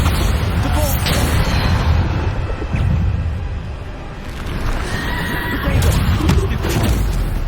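Bombarda spells go off in a battle in Hogwarts Legacy, a few heavy booming blasts spread across a constant noisy backdrop of combat effects, with a voice calling out between them.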